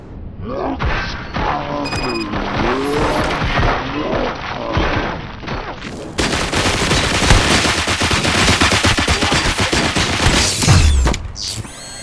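Gunfire in the Robocop: Rogue City video game, loud rapid bursts and mechanical clatter filling the whole stretch, with a denser barrage of shots in the second half and booming impacts.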